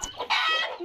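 A white hen gives a short burst of loud, close clucking, a few quick calls rising into one sustained squawk, with no talking over it.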